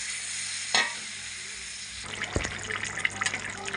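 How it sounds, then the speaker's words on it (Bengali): Water poured into a pan of frying spicy potato curry, steady sizzle that bursts into louder crackling and bubbling halfway through, close up with no talking. "আমি এখন অল্প করে ভিতরে জল দিয়ে দেবো ডাবলা ধোয়া জলটা দিয়ে দিলাম"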